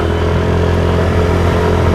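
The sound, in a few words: motorcycle engine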